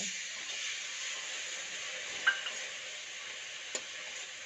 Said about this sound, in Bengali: আগে থেকে বেটে রাখা আদা, জিরে আর লঙ্কা দিয়ে মশলাটাকে কষিয়ে নেব।